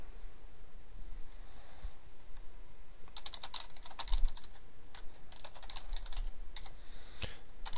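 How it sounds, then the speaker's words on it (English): Typing on a computer keyboard while writing source code, with quiet scattered keystrokes at first, then bursts of faster clattering clicks close to the mic; no talking. "rather than you watching me type wine.c"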